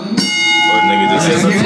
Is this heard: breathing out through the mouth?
no